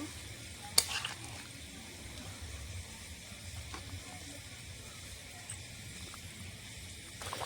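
Bengali fish curry of rohu with cauliflower bubbling in a pan on the stove, a low steady simmering hiss with soft crackles and a few faint clinks, quiet and close.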